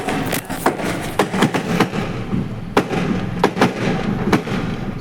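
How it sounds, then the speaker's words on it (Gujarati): Diwali firecrackers burst in rapid succession at night, sharp cracks and thuds repeating irregularly at moderate distance over a continuous background rumble. "રાત્રે પાછા ત્યાં તો દિવાળીના સરસ ફટાકડા ફૂટતા હતા"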